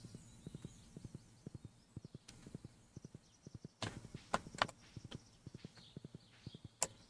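Horse hooves clip-clopping in the Stardew Valley video game, a steady rhythmic run of hoofbeats that stops and starts again, fairly faint, with a few sharp higher clicks and effects mixed in and no talk.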